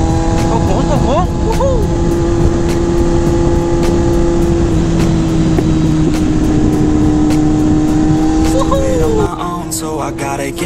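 A Kawasaki Z800 with an aftermarket exhaust rounds a bend with a loud, continuous engine drone that holds steady and shifts pitch slightly toward the end, then eases off.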